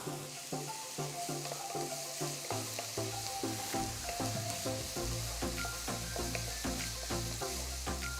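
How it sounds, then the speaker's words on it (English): Chopped green capsicum and tomato sauteing in a pan with ginger garlic, a steady sizzle running throughout with repeated stirring clicks and scrapes, alongside a low, steady tonal hum. "After sauteing the vegetables for about 5 minutes"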